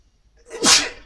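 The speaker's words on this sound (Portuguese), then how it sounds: "Ai, espirrar." A single loud, close sneeze: a quick breathy intake, then a sharp burst that fades within a second, heard alone in a quiet room.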